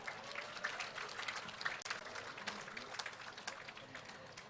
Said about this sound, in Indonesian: Kita sambut dengan tepuk tangan yang meriah.